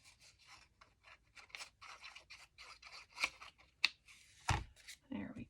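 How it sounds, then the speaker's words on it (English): Scissors snip through vintage book page paper in a quick run of close, crisp cuts, followed by a few louder rustles and clicks, with some quiet talking nearby. "And then I just snip it."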